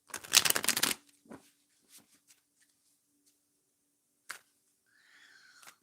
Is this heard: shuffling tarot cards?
yes